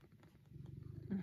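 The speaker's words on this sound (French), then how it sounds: "Petit chat d'amour." A cat purrs close by in a soft, steady rhythmic rumble of quick pulses that swells slightly at the end. No one speaks.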